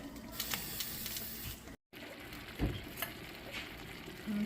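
Mushrooms cooking in wine in a pan give off a faint, steady sizzle and hiss, with a few brief stirring scrapes and clicks, close by and with no voices.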